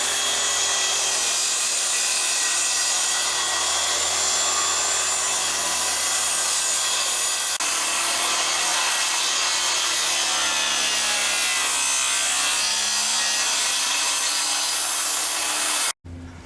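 Steady, continuous hand sawing through a wooden board for a quick trim cut, a dense rasping scrape running loud and close for about sixteen seconds before stopping abruptly.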